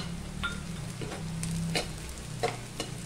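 Green chillies added to onions already browned in a pan, a soft continuous sizzle with a few sharp crackles and spatula scrapes, close by with a low hum underneath.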